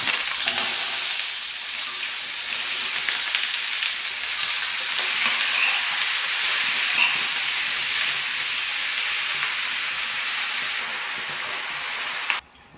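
Chopped vegetables with mustard seeds and curry leaves sizzle steadily in coconut oil and coconut gravy in a large pan, a loud continuous frying hiss that holds evenly before cutting off near the end.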